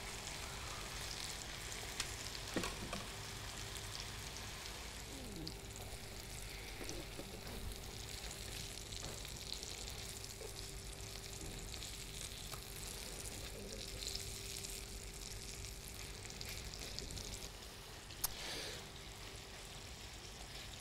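A delicate haddock fillet fries in a pan, giving a soft, steady sizzle that continues with little change, plus an occasional faint click.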